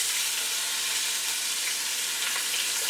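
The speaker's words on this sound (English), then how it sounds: "Add the wings in now and brown them as well." Chicken wings browning in a pan for brown stew chicken, a steady, close, dense sizzle and crackle of frying oil that continues without a break and with no voices.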